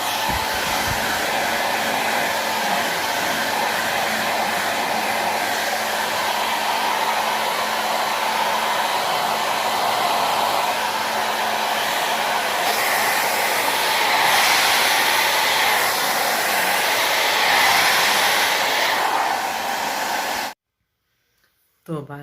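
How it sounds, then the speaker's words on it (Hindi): A hair dryer runs steadily while drying long hair, a loud, close, continuous whoosh lasting about twenty seconds before it cuts off abruptly. "अब थोड़ा सा बालों को सुखा लेते हैं"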